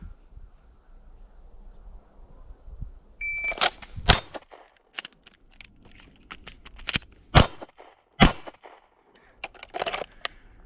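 Gunshots ring off steel targets in a shooting drill, each crack followed by a bright metallic clang, fired in irregular spaced bursts over a quiet outdoor background.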